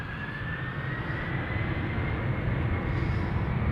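A United Airlines jet departing Amsterdam Schiphol Airport gives a steady, loud engine roar with a thin rising whine riding over the broad rumble, continuous throughout with no voices.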